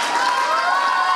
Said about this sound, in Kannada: ಅವ್ರಿಗೊಂದು ಜೋರಾಗಿ ಚಪ್ಪಾಳೆ ಹಾಕ್ರಿ ನೋಡೋಣ